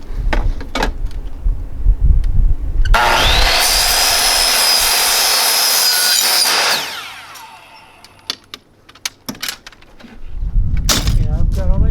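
A power saw cuts a door track to size, a loud high-pitched whining cut lasting a few seconds, framed by handling clatter and knocks before and after.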